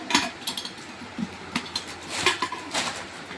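Metal cooking pots and utensils from a kitchenware set clatter and clink in a string of short, irregular knocks, fairly close, with no one talking.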